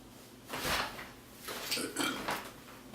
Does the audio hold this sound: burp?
yes